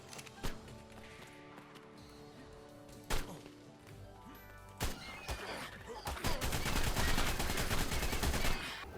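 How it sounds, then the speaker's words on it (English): AR rifle fired at dodos in Ark Survival Evolved: a few sharp isolated shots, then a dense rapid burst of gunfire near the end, mixed with game sounds and a horse-like whinny. "I started shooting the dodos"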